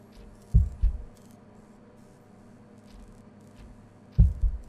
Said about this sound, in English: why do I hear a heartbeat?